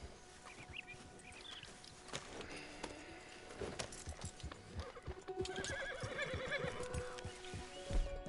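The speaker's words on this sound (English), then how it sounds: "Oh, there's a horse." Horse whinnies and clip-clopping hooves in Red Dead Redemption 2, with a sharp neigh near the start and steady hoofbeats building toward the end over outdoor ambience with faint birds.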